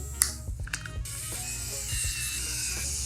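A toggle switch on a Rebel 2.0 is clicked, giving a few sharp mechanical clicks and ratchet-like snaps close up early on, followed by a quieter steady hum.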